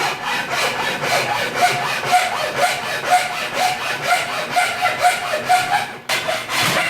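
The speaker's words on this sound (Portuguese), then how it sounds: "você pode também fazer a marcação e cortar com um serrote" A hand saw cuts through wood for a tabletop LED strip lamp, with steady back-and-forth rasping strokes about two per second, close and loud, pausing briefly near the end before one more stroke.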